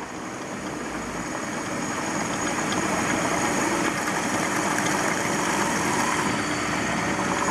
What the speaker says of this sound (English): You can hear the fuel coming up.